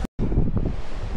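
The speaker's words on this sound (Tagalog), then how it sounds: "Ang lakas ng hangin dito" Strong mountain wind gusts across a high trail on Mt. Isarog, a steady loud roar buffeting the microphone after a brief silent gap, with no voices.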